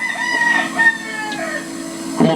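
A rooster crows nearby, a drawn-out cock-a-doodle-doo with a brief clucking or flutter near the end, fairly clear against a quiet background.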